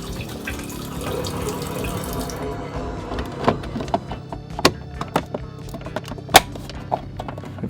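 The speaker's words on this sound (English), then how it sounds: "Hopefully the water pump goes off in a minute." On a narrowboat, the onboard water pump runs with water flowing, a steady rushing wash that thins out partway through and leaves scattered drips and knocks in an enclosed space.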